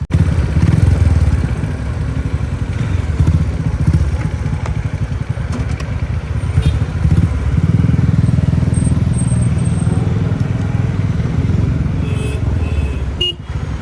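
A Bajaj Dominar motorcycle rides along a road, its engine droning steadily and fairly loud throughout, with faint traffic and a brief horn toot.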